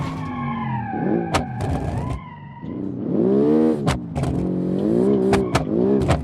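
A turbocharged car in a racing video game revs hard through rising engine harmonics, and its tires skid and squeal between gear changes. The engine noise is loud and continuous, with sharp clicks over the top.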